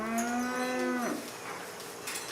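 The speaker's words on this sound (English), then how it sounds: "Twice a day, the cows are brought in from the fields for milking." Dairy cows in a milking shed give one long, loud, close moo with a falling tail, followed by quieter barn ambience and a faint second call at the end.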